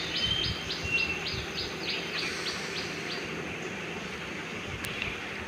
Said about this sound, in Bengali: বিভিন্ন সুন্দর সুন্দর পাখিদের ডাক,